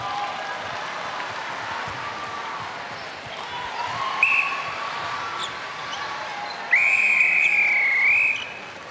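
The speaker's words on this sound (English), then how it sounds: "the whistle goes for the end of the second quarter" A referee's whistle ends a netball quarter in a Barbados v Singapore Netball World Cup 2019 match, with one short blast and then a long, loud, wavering blast over steady arena crowd noise.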